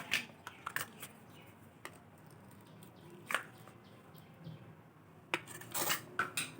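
Prawn stuffing being worked together with salt and butter for bottle gourd leaf pakoras, giving soft, intermittent squelching and clinking of utensil against bowl, with louder clattering bursts near the end.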